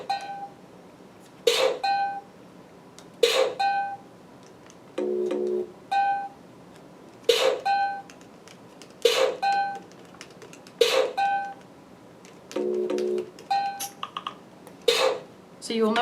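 Looping electronic sounds from a Code Jumper coding program: a bright repeating tone pattern recurs several times, broken by a short hand-drum-like conga sound, all clear and close with no talking.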